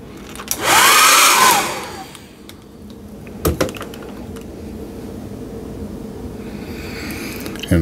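A heat gun blows loudly in a strong hissing rush for about a second and a half, heat-setting paint on a lipless crankbait fishing lure, then a few knocks and a quieter steady background hum.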